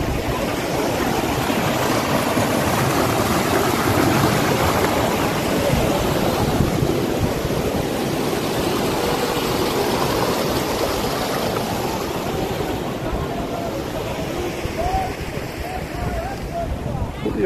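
The Roshi river in Kavre, Nepal, rushes steadily as a broad, continuous wash of flowing water mixed with wind buffeting the microphone.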